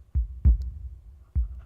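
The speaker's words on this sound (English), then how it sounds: "Can you hear the heartbeat in the background?" A deep, muffled heartbeat thumps in a visual novel game, two double beats in a slow lub-dub rhythm, close and alone.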